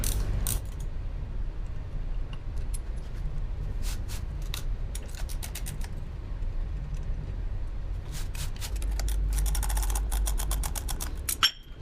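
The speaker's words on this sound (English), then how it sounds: "It's just a 9/16 wrench is really all you need." A 9/16 wrench works bolts on a Zamboni board brush, giving steady mechanical ratcheting and clicking with intermittent sharp metallic ticks over a low background hum, loudest in clustered bursts near the start and end.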